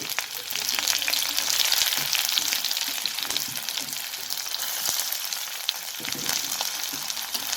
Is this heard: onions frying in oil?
yes